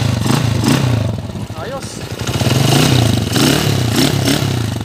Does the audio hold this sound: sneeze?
no